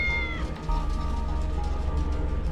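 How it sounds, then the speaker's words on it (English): Inside a video game, a cat trapped in stuck armor meows in a short, clear cry over a steady hum of background music. "I'm sure that's a cat meowing."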